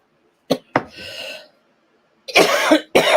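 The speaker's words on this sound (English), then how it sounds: "You just making me cough, though." Several sharp, close coughs from a woman: two quick bursts with a short rasp after, then a pause before two more heavy, rough coughs, with no talking.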